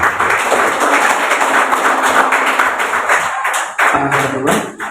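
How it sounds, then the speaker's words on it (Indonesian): Wedding congregation applauding during a church marriage blessing ceremony, steady dense clapping filling the room for several seconds with a brief dip near the end, a few voices faintly mixed in. "Puji Tuhan, berikan tepuk tangan Bapak Ibu."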